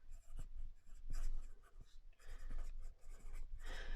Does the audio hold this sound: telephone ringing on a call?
no